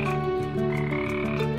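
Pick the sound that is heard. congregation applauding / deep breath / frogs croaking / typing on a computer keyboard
frogs croaking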